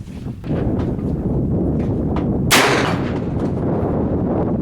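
One sharp gunshot cracks out during an outdoor shoot, a single loud report standing out from constant wind rumble.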